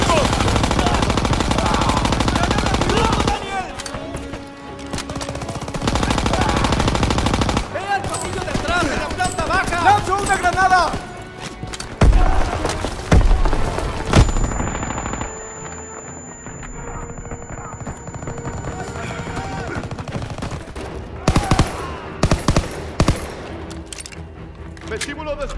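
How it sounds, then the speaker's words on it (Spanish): Bursts of machine gun fire ring out in a World War II battle from the Call of Duty WW2 video game, loud rapid volleys between gaps, mixed with shouted soldiers' voices and other combat noise. "¡Ametralladoras en las escaleras!"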